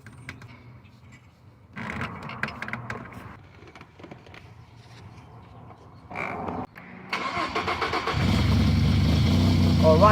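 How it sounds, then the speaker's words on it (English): A Ford engine with its exhaust manifolds disconnected cranks and catches after a few tries, then settles into a loud, raw, rapid idle with sharp crackling pulses, close up. "that's the engine up and running right there with no problem"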